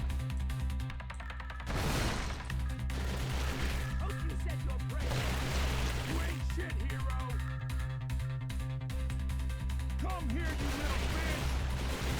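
Rapid gunfire from shooting enemies in the action roguelike Heroes Unhinged, a dense continuous barrage layered over droning game music and effects, steady and loud throughout.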